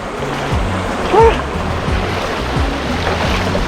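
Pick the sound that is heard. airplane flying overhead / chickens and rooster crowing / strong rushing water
strong rushing water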